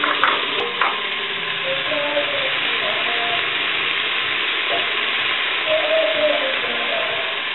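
Onion and carrot sizzling and frying in a large pot, a constant close crackle with occasional stirring scrapes and no talking.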